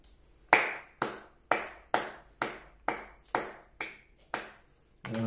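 Nine separate hand claps at a steady, slightly slowing pace, each one sharp and close, then a final clap as it ends; no talking.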